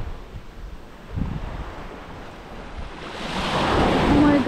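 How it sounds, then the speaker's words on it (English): Ocean waves break on the sand at Lang Co Beach near Hai Van Pass, Vietnam, a steady roar of surf and wind that swells louder toward the end as a big wave crashes close by. "They have scary wave here."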